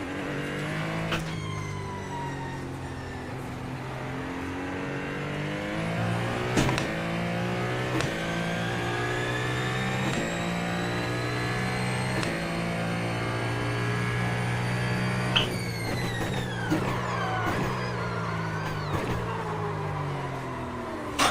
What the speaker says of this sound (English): the Ferrari sounds so good